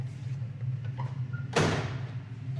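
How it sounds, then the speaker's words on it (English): A single solid thud of a 1968 Ford Mustang California Special's door shutting, sharp and close, after a moment of quiet background hum. "Door shut, awesome."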